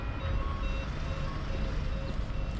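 A truck's reversing alarm beeps in a US school zone, steady tones sounding over a low rumble of traffic and engine noise for a few seconds.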